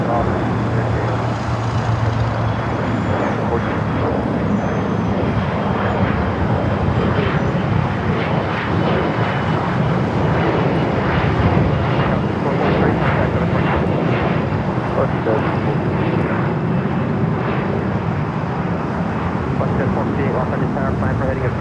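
A Boeing 787 Dreamliner taxiing at LAX gives a loud, steady jet engine roar and rumble, with faint radio-style chatter underneath throughout.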